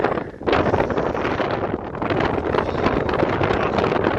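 Strong wind roars and buffets the microphone in a loud, continuous rush with no pauses, during a freezing blizzard.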